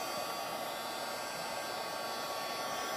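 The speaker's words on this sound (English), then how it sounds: "I'll use my dryer just to thicken it a little bit." A hair dryer blows steadily and close, drying paint on an acrylic block in a constant, unbroken whoosh with no pauses.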